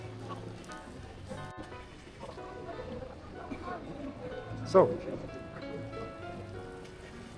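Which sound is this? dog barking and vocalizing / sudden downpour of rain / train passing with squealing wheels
sudden downpour of rain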